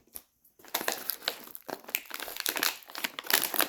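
A snack wrapper from an Italian snack box is crinkled and torn at open, one-handed: loud, close, continuous rustling and crackling bursts after a brief pause, with no talk.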